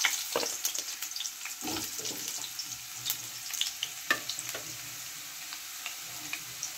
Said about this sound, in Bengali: আমি আলুটাকে ভেজে নেব।